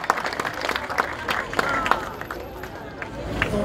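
An audience at a museum's fifteenth-anniversary celebration claps for the museum workers, with sharp overlapping claps and crowd murmur, fairly close and moderately loud.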